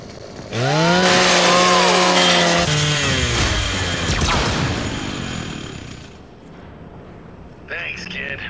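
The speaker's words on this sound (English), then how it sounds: "With the launcher equipped, hold RB to use your chainsaw." A Lancer rifle's chainsaw bayonet revs in Gears of War 5, a loud rising-and-falling mechanical whine with descending tones and crunching bursts, partly under game dialogue and fading toward the end.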